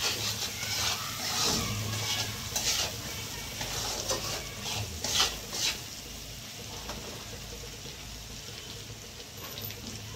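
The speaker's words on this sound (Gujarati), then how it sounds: "હવે બધું હલાવી નાખશું" Salted potato filling for masala dosa sizzles steadily in a pan while a utensil stirs and scrapes through it, producing repeated bright scraping strokes over a constant hiss.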